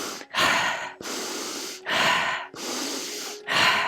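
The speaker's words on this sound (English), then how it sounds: "in through the nose, out through the mouth, but we're moving more quickly" Quick, rhythmic breaths are taken in through the nose and out through the mouth during an energizing breathwork round. Four close, forceful airy bursts follow one another at a steady brisk pace, with no talking.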